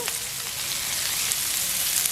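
Steady, soft sizzling of onions sautéing in sesame oil in a pan, a continuous crackling hiss with no talking.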